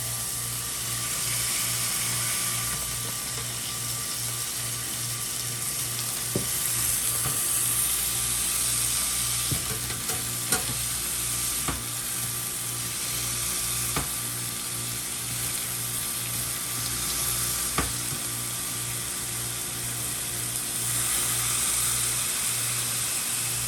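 A smash burger patty frying on a hot cooking surface, a steady sizzle running throughout with a low hum and a few sharp scraping clicks along the way, and no voices.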